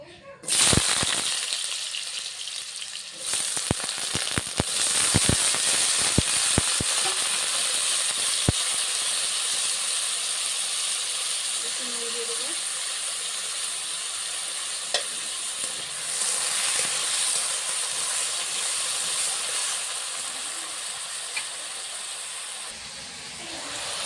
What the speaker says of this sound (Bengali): কেটে ধুয়ে রাখা আলু ভেজে নেবো তেলে